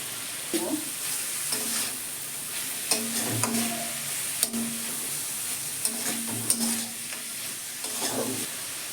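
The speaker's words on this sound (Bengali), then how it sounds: "যে মশলাটা জল দিয়ে গুলে নিয়েছি সেটাও দিয়ে দিলাম একটু কষে নেব" Spice paste mixed with water and fresh ginger sautéing in a pan with cornflour, quiet steady sizzle broken by scattered spoon scrapes and stirring knocks, close and fairly soft.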